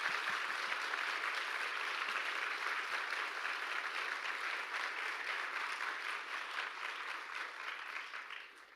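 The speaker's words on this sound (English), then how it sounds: "please give them another round of applause" An audience gives another round of applause to performers at an evening event on Palestine and Minneapolis, dense sustained clapping from many hands that fades slightly toward the end.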